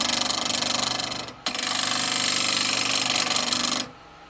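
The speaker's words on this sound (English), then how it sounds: "all that bounce is coming back because I've got my bevel on the wood and the wood isn't rounded" Bowl gouge bouncing against unrounded wood spinning on a lathe, a loud, rapid rattling chatter that runs continuously, breaks briefly, then resumes before stopping.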